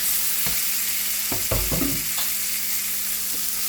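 Chopped tomato going into browned onions frying in a pan: a steady close sizzle is broken by a cluster of stirring clatters and knocks near the middle, with no talking.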